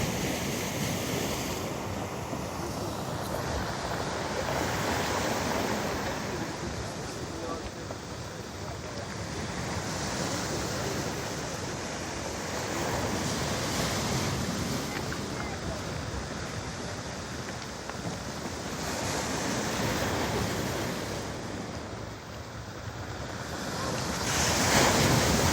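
Stormy sea waves break on the shore in a continuous loud roar that swells and eases in slow surges, with strong wind buffeting the microphone throughout.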